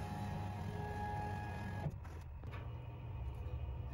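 An Omtech CO2 laser machine jogs its head across the bed toward the far corner, giving a steady mechanical hum with a faint whine and a brief shift partway through, heard alone.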